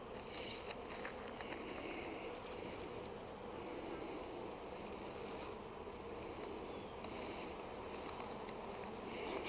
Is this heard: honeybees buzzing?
yes